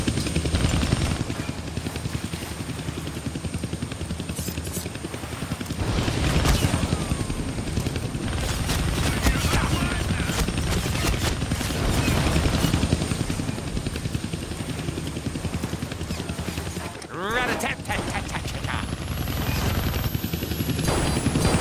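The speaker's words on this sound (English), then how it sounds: "I can't kill that chopper with my guns" A helicopter in the video game Deadpool thrums loudly and continuously throughout, joined by bursts of gunfire and booms, with a sweeping whoosh near the end.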